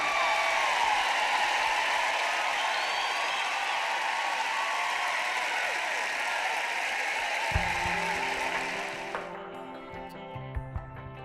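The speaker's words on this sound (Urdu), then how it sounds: "ڈیو کے لیے تالیاں" An audience claps in a hall, with broad sustained applause that fades after several seconds into quieter room noise and faint tones.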